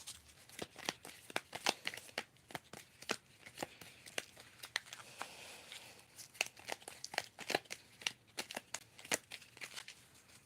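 Tarot cards being shuffled and handled, with rapid, irregular crisp slaps and riffling flicks close by and no voices.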